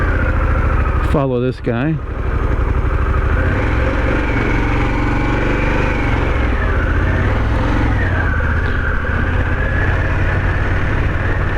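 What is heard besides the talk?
Harley-Davidson Pan America motorcycle riding in road mode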